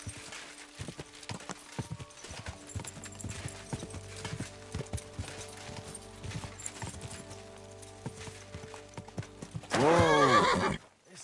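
Horse hooves clip-clopping at speed in Kingdom Come Deliverance 2, a rapid steady beat with game music underneath, ending in a loud close neigh.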